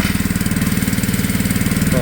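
Steady engine on a 330-gallon single-axle water trailer idles close by with an even, rapid pulsing throb, running continuously without a break.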